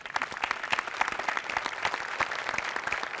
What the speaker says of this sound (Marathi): तर मराठी भाषेसाठी एकदा टाळ्या.